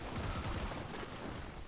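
Rapid automatic gunfire from a weapon in Warframe, a dense unbroken burst of shots with booming low thuds, loud and continuous throughout.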